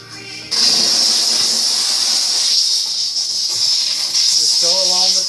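Steam hisses steadily and loudly as ice is melted off, a continuous bright rushing sound with a brief squeal near the end.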